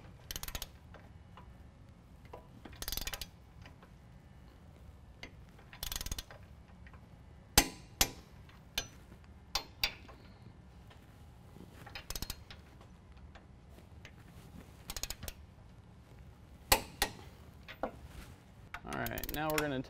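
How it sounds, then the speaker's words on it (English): Ratchet wrench clicks and metallic clanks as center differential mounting bolts are torqued to 90 foot-pounds on a 2014-2017 Chevy GMC 1500 4WD lift install, with a 7/8 nut and 13/16 head; irregular sharp bursts over a low workshop hum. "we're going to torque down our center differential mounting bolts to 90 foot-pounds"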